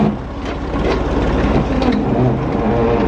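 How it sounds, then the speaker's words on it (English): A forklift engine runs at a steady loud idle beside a truck being unloaded, a continuous low diesel-like rumble with no pauses and no talk over it. "I'm gonna get the forklift there"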